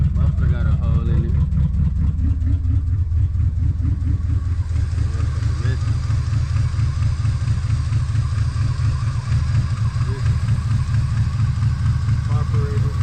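A 1979 Chevrolet Malibu coupe with a carburetor issue and a hole in its muffler idles with a loud, constant low rumble throughout, recorded close, with a voice speaking over it.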